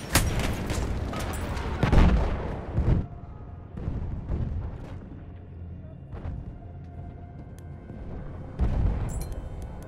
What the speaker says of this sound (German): Vorsicht, Jungs, ich werfe eine Granate!